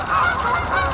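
A flock of about fifty geese passing overhead, a dense chorus of overlapping honks, loud and close, with no talk.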